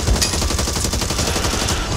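Dense gunfire in the zombie shooter Back 4 Blood, a continuous loud stream of rapid automatic shots lasting about two seconds with no pauses and no talking over it.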